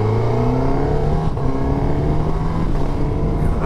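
A Suzuki GSX-S1000GX motorcycle engine revs steadily and loudly up close, held in the mid-range with a smooth, continuous drone and slight pitch swells.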